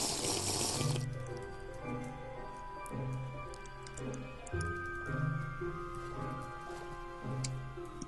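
Water splashes briefly in the Craft of the Dead video game during the first second, then steady, rhythmic in-game music with ticking notes carries on for several seconds.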